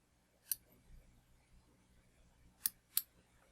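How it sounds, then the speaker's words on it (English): Scissors trim the tips off pheasant tail fibres while a Quasimodo Pheasant Tail Nymph fly is tied, making three crisp, close snips (one and then two in quick succession) against near silence. "We'll trim these tips off right here."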